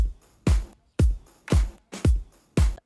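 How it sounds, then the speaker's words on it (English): A punchy drum beat of kicks, snares and samples hits in a steady rhythm, about two heavy strikes per second, each with a boomy low end and crisp top. It is loud and close, with no voices. "So the snares, the samples, and the kicks sounds like this."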